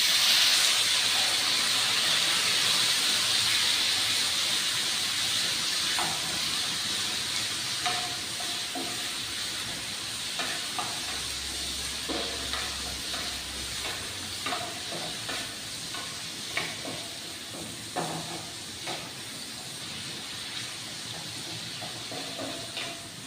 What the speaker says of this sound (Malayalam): കടുക് പൊട്ടി വന്നിട്ടുണ്ട്. അപ്പോൾ നമുക്ക് തക്കാളി ഇട്ട് കൊടുക്കാം.